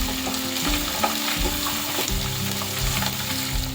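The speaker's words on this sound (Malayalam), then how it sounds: "വെളുത്തുള്ളി, ഇഞ്ചി, പച്ചമുളക് നന്നായി വഴറ്റുക." Garlic, ginger and green chillies sauté in oil for garlic pickle, a loud continuous crackling sizzle with stirring throughout, steady and close.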